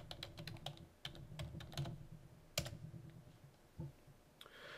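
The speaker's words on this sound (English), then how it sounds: "So we'll go ahead and enter our password one more time." Password being typed on a computer keyboard during a software install, a quick run of close, crisp key clicks with brief pauses between bursts.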